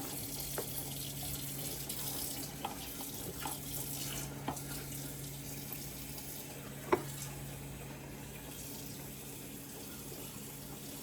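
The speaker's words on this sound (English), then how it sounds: "Gonna get a little bit more water in the blender, a little bit." A quiet, steady trickle of water pours with a soft hiss into a blender holding plantain, oat and peanut porridge, with a few faint clicks and taps, close by.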